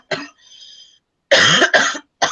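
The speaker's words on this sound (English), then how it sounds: "I will be coughing a lot because the moment I'm having some cough." A woman coughs in a series of harsh, close bursts: one short cough, a pause with a faint tonal hum, then two strong coughs back to back and the start of another.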